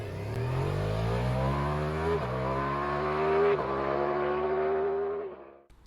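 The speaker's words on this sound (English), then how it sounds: "the V4, the 4 cylinders, rev up faster than 2 cylinders, and that power just hits like this" A Ducati Multistrada V4 S four-cylinder motorcycle engine revving hard as it accelerates, a loud rising whine climbing steadily in pitch through quick gear changes for several seconds before dropping off at the end.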